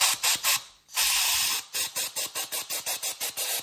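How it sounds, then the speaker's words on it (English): A small mini spark plug sandblaster cleans a badly fouled Model A spark plug with a rapid series of close, loud hissing bursts, about fifteen short pulses plus one longer blast near the start. "I bought a little mini spark plug sandblaster."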